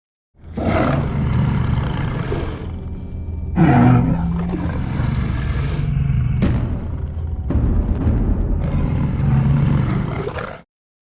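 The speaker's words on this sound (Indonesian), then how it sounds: "muncul seekor serigala pejantan utama yang terlihat sangat besar dan menakutkan mendekati mereka yang berkelahi" A huge, menacing male wolf in a film scene set in the Alaskan snowfields, giving deep, loud growls and roars in several long rumbling bursts with brief breaks, close and continuous over about ten seconds.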